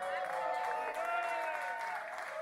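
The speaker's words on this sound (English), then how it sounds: "Give him a big cheer." A crowd in the McLaren suite at the Yas Marina Formula One paddock club in Abu Dhabi cheers and claps steadily, a dense roomful of applause with voices mixed in.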